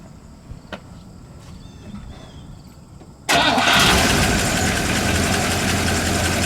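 A 1954 Cadillac Eldorado convertible engine cranks and fires abruptly after a few quiet seconds, then settles into a loud, steady, deep idle.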